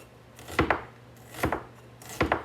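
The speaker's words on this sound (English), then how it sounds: "So I'm going to slice these really thin." A knife slices vegetables thinly on a cutting board for 24-hour pickles, giving three separate clusters of sharp double chops about a second apart. The chops are close, and nobody speaks.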